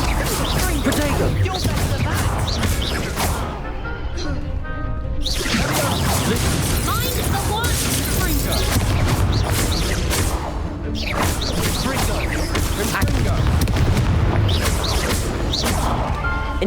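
Spell-casting combat in the Hogwarts Legacy video game, with a dense, loud stream of booms, crashes and whooshing bursts, broken by a brief lull partway through, while a player speaks over the action.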